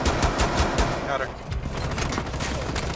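Rapid gunfire bursts in a Rainbow Six Siege team deathmatch on the Bank map, dense repeated shots through the first second, then a busier mix of game noise with a voice partly under it.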